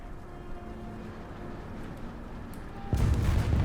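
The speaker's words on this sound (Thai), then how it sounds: "อันนั้นเสียงจรวดของสตูมไทเกอร์" A Sturmtiger fires its rocket in War Thunder: after a low rumbling engine drone, a single heavy blast erupts near the end, loud and close, its boom lingering.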